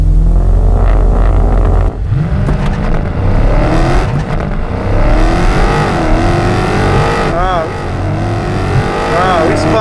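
Drag race cars launch at the start line in a Roadkill network-stars shootout, engines roaring loudly with rising revs and tire spin, while excited voices talk over the noise.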